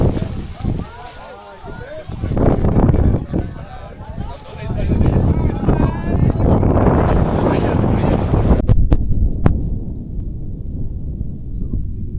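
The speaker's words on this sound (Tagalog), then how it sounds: "Ang lakas ng hangin dito. Ang lakas ng hangin." Strong mountain wind buffets the microphone atop Fansipan Peak in fog, a loud continuous rumble and roar with gusts, and a person speaks over it in places.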